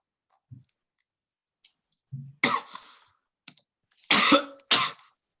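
A person coughs a few times in short, sharp bursts with quiet gaps between them, mixed with faint clicks.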